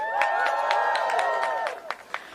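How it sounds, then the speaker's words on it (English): Scattered clapping and light crowd noise from a room at a rally for student debt cancellation, fairly distant and moderate, thinning out toward the end with a few isolated claps. "Let's have one more round of applause for Mary Kay and Shed."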